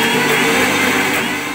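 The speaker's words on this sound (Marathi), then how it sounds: "परत मिक्सर चालू करायचा आणि व्यवस्थित स्मूथ पेस्ट आपल्याला करून घ्यायची आहे" A mixer grinder grinds soaked dal into a smooth paste for alu wadi, giving a loud, steady motor roar that whirs on without a break and with no voices.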